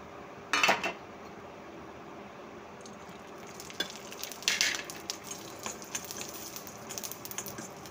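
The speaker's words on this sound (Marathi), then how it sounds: "आता आपण शेंगदाणे, तीळ, धने हे सुद्धा भाजून घेऊया." Peanuts, sesame seeds and coriander seeds dry roasting in a pan give a sharp clatter as they are tipped in, then soft intermittent scraping and rustling as they are stirred, close and quiet.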